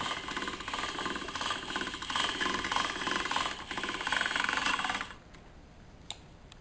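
Hand-cranked pasta roller pressing noodle dough through its thickest setting, a quiet rhythmic ratcheting clatter of gears that runs for about five seconds and then stops, leaving near silence.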